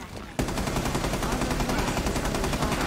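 Rapid automatic gunfire in Rainbow Six Siege Containment mode, erupting suddenly and continuing as a loud, dense stream of shots.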